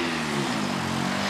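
A loud, steady McLaren 720S sports car engine drone with a rising harmonic tone, close and continuous for a moment.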